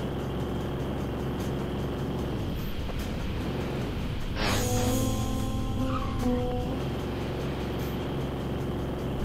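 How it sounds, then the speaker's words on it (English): A BMW drifts in a driving video game, engine droning steadily as a loud tire squeal rises midway, holding a few seconds in sliding tones before fading back to the engine. "Give me that BMW. Oh man, you can do some sick drifts."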